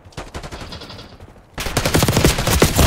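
Machine-gun fire in Black Ops 6 from the Jackal PDW: a lighter rattling burst at first, then a louder, dense stream of rapid shots close by, with no talking.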